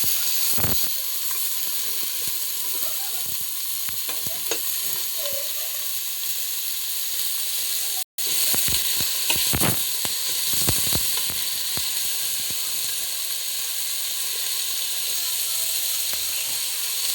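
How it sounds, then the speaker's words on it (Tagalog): Onion and tomato sauté in a little oil in a pan for fish sinigang, a steady close sizzle running throughout with scattered stirring clinks and scrapes. "Konti lang ating mantika para may panggisa lang tayo dito sa ating rekado."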